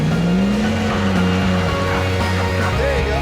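Jeep Wrangler engine pulling up slick rock on the Fordyce trail in the Sierra, with a loud, steady, close growl and rising and falling pitch as the throttle is worked.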